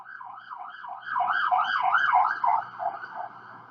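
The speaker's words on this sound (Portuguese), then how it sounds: "Deixa passar a ambulância." Close wailing ambulance siren cycling in repeated rising and falling sweeps, swelling louder midway as it passes, with no voices.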